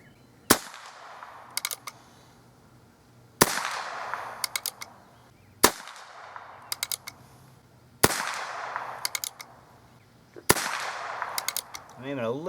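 A Heritage Rough Rider Rancher revolver fires .22 long rifle rounds, giving five sharp, evenly spaced shots a few seconds apart, each followed by faint distant ringing of a struck target.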